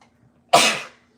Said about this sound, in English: I don't know where that sneeze came from